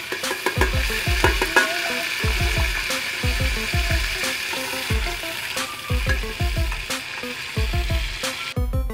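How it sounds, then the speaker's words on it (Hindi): Onions hiss and sizzle loudly in hot ghee, with steady crackling and repeated scraping of a spoon stirring the pot. "अब इसमें प्याज शामिल करेंगे।"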